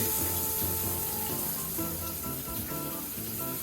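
Salt water drains out of a Kent bathroom water softener in a steady, continuous rushing and gurgling flow with no break.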